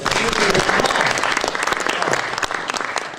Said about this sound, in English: Round of applause for Al Bowley.